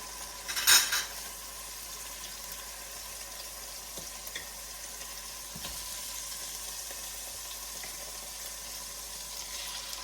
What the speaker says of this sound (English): I need to get a nice brown sear on both sides